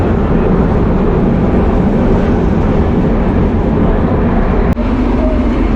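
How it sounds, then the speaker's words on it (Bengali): A train crossing a bridge gives a loud, steady, close rumble throughout, with a single sharp click near the end. "আর এখন কিন্তু আরেকটা ট্রেন আসতেছে, সেটাও আপনাদের দেখাবো।"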